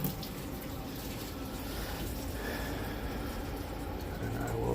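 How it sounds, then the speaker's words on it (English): Water runs steadily from a sink tap during washing machine hookup work, a constant faint rushing hiss with no voices. "No, I'll go like this and turn my water on."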